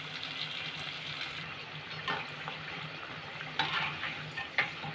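Potato balls for Aloo 65 deep frying in oil give a faint, steady bubbling sizzle with a few soft clinks of stirring and utensils.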